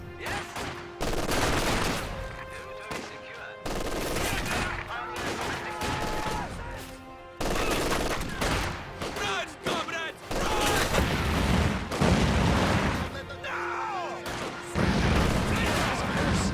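An MG42 machine gun and other heavy weapons fire in the Company of Heroes video game, with dense, loud, sustained bursts and crashes broken by brief gaps, while a commentator talks over the battle.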